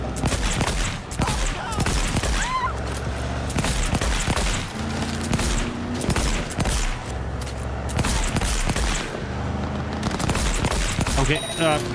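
Heavy, continuous volleys of automatic gunfire during a driving sequence in Cyberpunk 2077, loud and dense throughout with overlapping bursts and booms, and a voice talking at times beneath the shooting.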